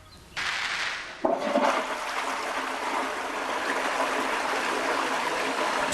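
A toilet flushes with a sharp click of the handle, then a loud rushing surge of water that settles into a steady, close gushing stream with no talking.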